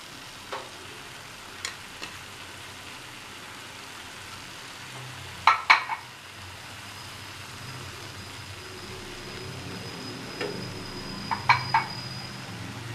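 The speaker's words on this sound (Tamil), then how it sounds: "முட்டை பாதி வெந்ததும் அதில் பரோட்டா சேர்த்துக்கலாம்." Egg and porotta frying together in a pan for kothu porotta, a low steady sizzle broken by a few sharp metallic clinks and scrapes of stirring, close by with no talking.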